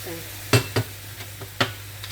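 Tiny shrimp dry-grill in a pan with no oil. A soft steady sizzle sits under several sharp scraping stirs from a utensil against the pan.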